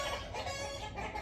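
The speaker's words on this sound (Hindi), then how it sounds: "इतनी देर सुकून से आपने इस मुर्गे को देखा है, वॉच आउट किया है।" A rooster of a prized breed clucks steadily up close, a low continuous burble filling the short moment with no voices.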